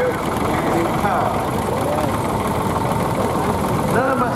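Massey Ferguson 35 tractor with a three-cylinder Perkins diesel running steadily at a ploughing match on a farm, a loud continuous rumble with faint chirping sounds above it.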